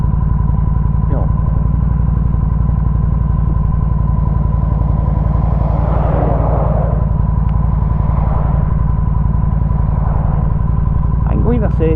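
A Yamaha Midnight Star 1300 motorcycle engine runs with a steady low, throbbing rumble close by, holding constant throughout while a person talks over it.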